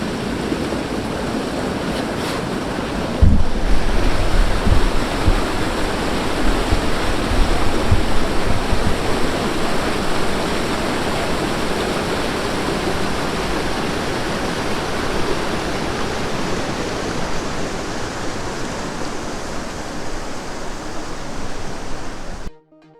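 A small waterfall beside a river in Zion National Park gives a loud, steady rush of falling water. It starts with a soft bump and carries on unbroken, then stops abruptly at the end.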